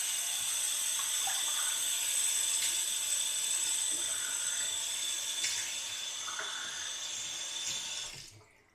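Tap water runs steadily into a sink while a face is rinsed after a shave with almond shave soap, a continuous close hiss with small splashes and clinks, cutting off near the end.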